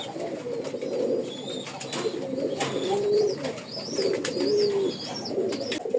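A pigeon coos repeatedly at close range, with a series of low, throaty rolling calls in a loose rhythm. Faint higher chirps from other birds are scattered over them.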